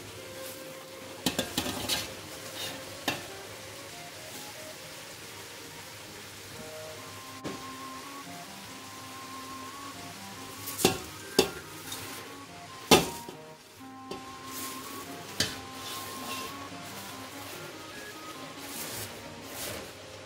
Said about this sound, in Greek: και ανακατεύουμε λίγο.